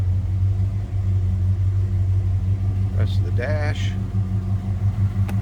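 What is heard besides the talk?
1965 Oldsmobile Cutlass 330 V8 engine running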